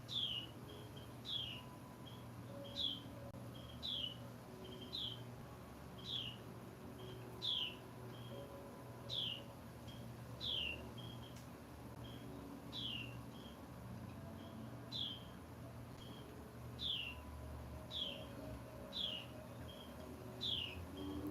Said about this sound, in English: the birds are really yapping